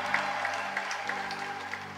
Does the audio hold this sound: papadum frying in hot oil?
no